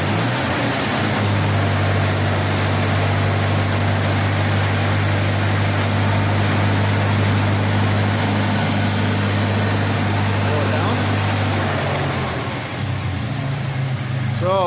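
A damaged car engine, suffering internal engine damage, runs steadily at a loud, close idle for the whole stretch with a constant low hum and faint background noise.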